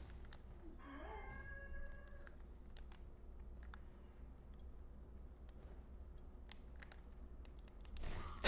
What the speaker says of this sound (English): Toby really hates the roosters.